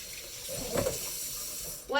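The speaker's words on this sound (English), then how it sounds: "let me just quickly rinse one of these out and dry it" A container is rinsed under a running kitchen tap while baking, giving a steady close water hiss with a brief louder splash near the end, under faint talk.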